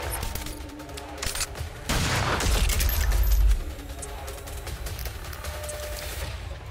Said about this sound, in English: Didn't realize I still got the anti-materiel rifle equipped.